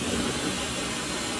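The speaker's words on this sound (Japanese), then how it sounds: "ドライヤーします。" A hair dryer blows a loud, steady whoosh of air while towel-dried hair is being dried, continuous and close with no talking.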